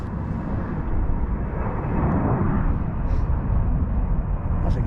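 An easyJet airliner flies overhead near the Titanic slipway in Belfast, producing a steady, broad roar that holds at an even level throughout, distant rather than close.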